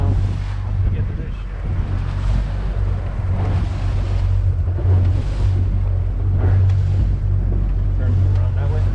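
A small motorboat engine on a 16-foot boat drones steadily as the hull slaps through choppy lake waves, with wind buffeting the microphone throughout.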